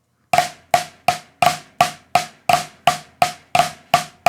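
A snare drum plays Swiss Army triplet strokes back to back with no gap, a steady stream of crisp, bright hits falling about three per second, each close and loud with a short ringing decay.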